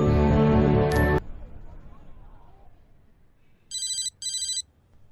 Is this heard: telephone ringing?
yes